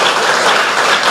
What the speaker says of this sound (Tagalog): Malakas na palakpak para sa Diyos.